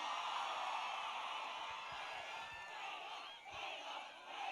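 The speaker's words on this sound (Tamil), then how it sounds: "ஒரு பெரிய நன்றி, ஒரு பெரிய கைத்தட்டல்" A large crowd at the Ponniyin Selvan anthem launch event roars and cheers for the singers, a dense, sustained wash of voices that stays loud throughout, with a slight dip near the end.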